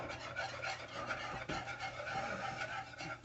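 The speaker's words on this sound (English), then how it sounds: "We're going to whisk in our Dijon the whole way around." A whisk scrapes steadily around a pan as Dijon mustard is worked into a pan sauce, a continuous close rasping and rubbing with no voices.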